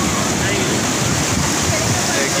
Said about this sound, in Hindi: ये देखिए कैसे वेव आ रही है